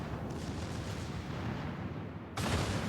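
Battleship guns fire in the World of Warships naval game, a sustained rumbling roar of heavy gunfire that swells into a fresh loud blast near the end, with no talk.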